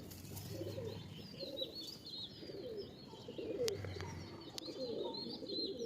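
Tournament-grade pigeons coo in low, repeated throaty phrases, with faint chirps and brief wing sounds in the background and no talking.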